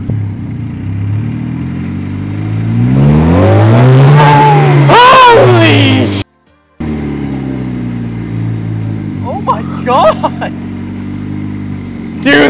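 A DF Goblin kit car's engine revs hard, rising to a loud roar around half throttle, then drops off for a moment before idling again with a rattle, and voices are heard near the end.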